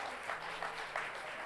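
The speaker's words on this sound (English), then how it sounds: "Let's have a round of applause for Lindbergh Elementary School." Attendees at a school governing board meeting give a round of applause for Lindbergh Elementary School, a faint, distant patter of clapping with a few slightly stronger bursts, brief and fairly quiet.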